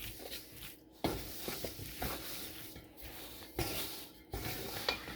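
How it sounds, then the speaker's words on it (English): Lasagna filling stirred in a bowl with a spoon, giving soft repeated scraping and sloshing strokes with a few sharper knocks against the bowl side, close and moderately quiet, with no talking. "Now look, I can stir and not make a huge mess."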